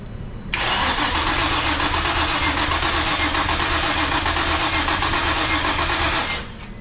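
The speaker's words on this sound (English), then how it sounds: "So I was gonna wait to do a compression test, but I'm just gonna do it right now." A Nissan VQ35DE-T turbo engine in an S13 cranks on the starter for about six seconds during a compression test, a steady, loud, rhythmic whirring churn that stops abruptly, with no voices over it.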